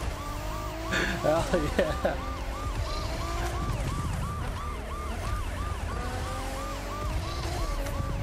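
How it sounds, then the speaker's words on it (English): Police car siren in the racing game The Crew Motorfest, wailing in repeated rising and falling sweeps over car engine noise, with a brief spoken word. "Now, someone else has got a cop car."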